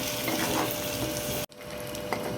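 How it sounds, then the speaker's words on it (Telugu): Chicken frying in a pan with curry leaves, a dense steady sizzle that cuts out abruptly, then resumes as a softer, thinner frying hiss with a faint pop. "ఈ విధంగా బాగా బ్రౌన్ కలర్ వచ్చేంత వరకు ఫ్రై చేసుకోవాలి."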